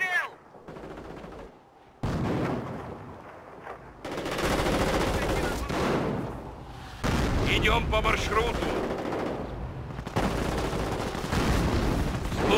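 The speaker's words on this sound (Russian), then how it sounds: "Мы попали под обстрел!" Gunfire and machine-gun bursts from the World War II strategy game Company of Heroes: Opposing Fronts, loud and continuous over the whole stretch, with voiced unit commands spoken over the shooting.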